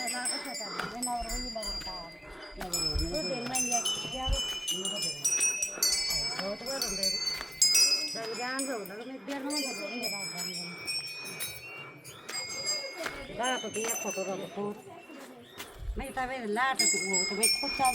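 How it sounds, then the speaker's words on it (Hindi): Temple bells at the Nagraja Devta shrine in Sem Mukhem are rung over and over, their bright metallic tones overlapping and lingering. A steady blend of voices and crowd noise fills the background. "आज इतना खुश हो के यहाँ पे घंटियाँ बजाने में लगी हुई है"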